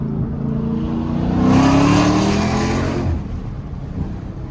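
A Dodge Demon engine revs loudly and builds to a roaring peak, then drops back to a rumbling idle, close by with no talking.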